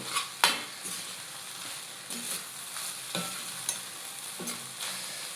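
Chilli garlic egg fried rice is stirred in a pan, with a spatula scraping and tapping the pan in irregular strokes over a steady, soft sizzle. No one speaks.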